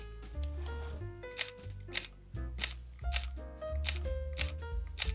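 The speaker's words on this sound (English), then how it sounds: "listen to this shutter sound" Mechanical shutter-like clicks from an Olympus Pen F style camera come as a quick series of sharp, close snaps at an uneven rhythm, sitting over a soft musical background with no talking.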